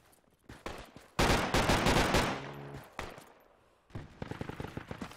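Bursts of enemy gunfire in the military shooter game Project Reality: sharp volleys of rapid shots, a dense loud stretch in the middle, then fainter scattered rounds and another clustered burst near the end.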